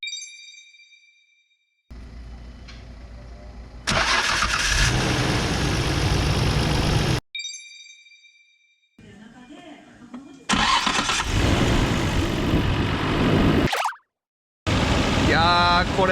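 A car engine cranked by a newly replaced starter motor fires up quickly and settles into a loud, steady run, with short chimes and gaps between two separate start attempts.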